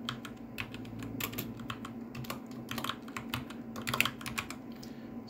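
Close, steady typing of code on a computer keyboard, irregular clusters of clicky keystrokes with brief pauses, over a faint low hum and no talk.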